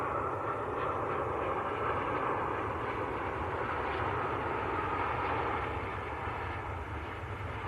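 A Saudi Boeing 787 Dreamliner in special livery arrives from Jeddah at Manchester Airport, its engines a steady, broad roar that holds level and distant-sounding throughout, with no one talking.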